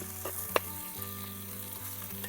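Black country chicken fries with masala in a village-style Northeast Indian pan, giving a steady close sizzle with a brief stirring clink and no talking.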